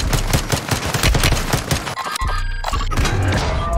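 Dense, rapid gunfire exchange in Call of Duty Warzone 2.0, with bursts of automatic fire and sharp impacts packed together, a brief lull near the middle, then more shots resuming, loud and close.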